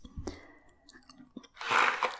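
Gum being chewed close to the mic, with soft wet smacking and clicks that build into a louder, crackly burst near the end; no talking.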